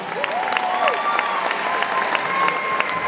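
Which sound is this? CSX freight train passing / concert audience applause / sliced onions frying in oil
concert audience applause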